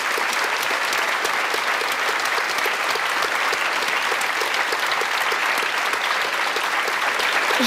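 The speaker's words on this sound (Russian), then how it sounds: "Нам нужны аплодисменты" Loud, sustained applause from a large audience at a Russian hockey talk show, a thick continuous wash of clapping at constant level with no pauses and no voices over it.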